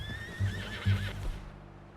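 A horse in Red Dead Redemption 2 whinnies after being punched, a loud wavering neigh with a few snorting huffs and stamping thuds beneath it, close up and clear with no talk over it.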